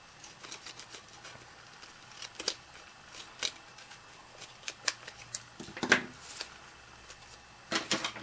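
Scissors snip through sticky tape at close range, making a scattering of crisp short clicks and cuts, with a couple of louder snips and some light rustling between them.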